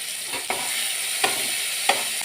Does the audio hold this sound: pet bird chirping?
no